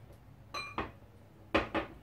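Metal teaspoons clink twice against a jar or bowl while honey is measured out, two pairs of bright, close ringing taps separated by a pause, over a faint low hum.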